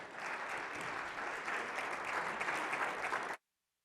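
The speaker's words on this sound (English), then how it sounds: "Round of applause" A crowd at a community meeting on opioids claps steadily and loudly for several seconds, a dense continuous applause that stops abruptly into silence.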